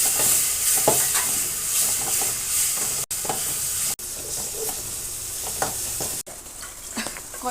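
Tomatoes and spice powders sizzle loudly in hot oil for a shredded chicken dish, a dense continuous hiss with the rhythmic scrape of a spatula stirring through the pan, close and alone.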